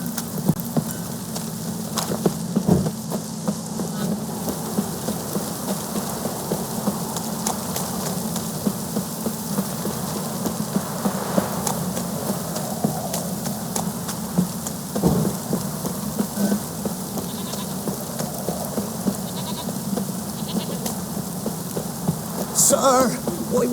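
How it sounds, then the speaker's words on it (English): Steady rain pours in the Witcher 3 video game, a dense, even hiss throughout, with low thunder rumbling now and then in the background and no voices. "Looks like rain."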